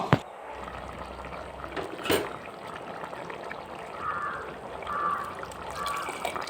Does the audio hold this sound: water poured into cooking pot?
yes